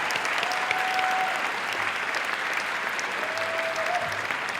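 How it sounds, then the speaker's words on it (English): Family and friends at a medical school graduation applaud the graduates, a dense, steady roar of clapping from a large crowd, with a brief whistle or two above it. "give them a round of applause"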